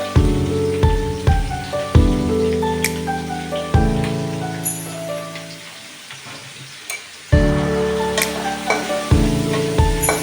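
Vegetables frying with rice in a pan produce a loud crackling sizzle broken by clattering stirs and scrapes, fading briefly mid-way before picking up again, with no voices.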